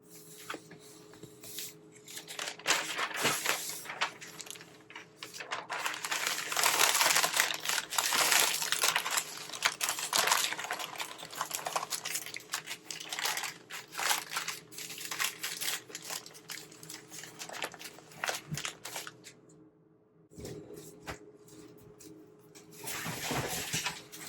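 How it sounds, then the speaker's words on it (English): Packing paper crinkles and crumples as items are wrapped by hand, close and fairly quiet, coming in irregular rustling bursts with short pauses. "I'm going to wrap everything up in some packing paper"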